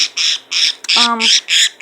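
A bird squawks loudly in repeated harsh bursts, about six calls in under two seconds, close by, while a cat stalks it; one call carries a brief stacked tonal note.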